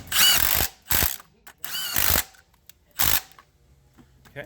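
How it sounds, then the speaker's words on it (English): A hand ratchet clicks in several quick bursts while tightening engine mount nuts on a Ford Focus, sharp close metallic pawl ratcheting separated by short pauses. "Always use hand tools when you tighten these nuts here on the mount."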